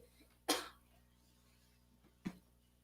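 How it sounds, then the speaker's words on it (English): An attempted sneeze from a preacher during a live church sermon: one sharp, close burst of breath, then a second weaker huff a couple of seconds later, otherwise quiet. "I'm trying to sneeze now. I can't sneeze."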